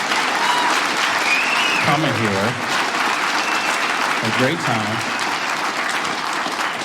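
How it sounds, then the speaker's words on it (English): A stand-up comedy crowd applauds steadily and loudly throughout while someone talks into a microphone over the clapping. "give yourselves a round of applause"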